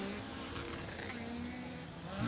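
Autocross race cars, among them a 1.6 Toyota Yaris, roar steadily at a Latvian championship round at a circuit, a dense continuous engine drone with a rising pitch line, loud and close throughout.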